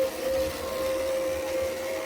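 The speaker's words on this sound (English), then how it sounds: "Thank you, bilge pump." Aboard a Lagoon 450 catamaran, a bilge pump runs steadily for about two seconds, giving a continuous electric hum with a single sustained whining tone and a low rumble beneath, with no talking.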